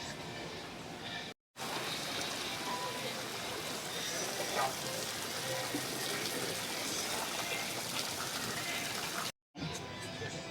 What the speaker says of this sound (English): And look at this beautiful fountain.